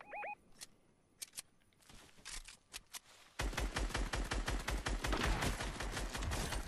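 Gunfire in Fortnite Battle Royale duos: a few scattered sharp shots at first, then a sustained rapid barrage of closely spaced, punchy bursts that stays loud and continuous to the end.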